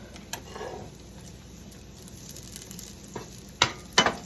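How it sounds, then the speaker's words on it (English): Sun-dried tomatoes sizzling in hot oil for a Sicilian bucatini sauce, a faint steady crackle with a few sharper pops and stirring clicks near the end. "now that the oil is hot, we put the sun-dried tomatoes first."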